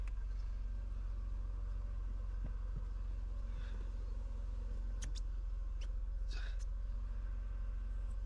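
A Mercedes W124 with the M103 engine idles steadily to warm up, a constant low rumble with a few faint clicks and brief rattles over it. No one speaks.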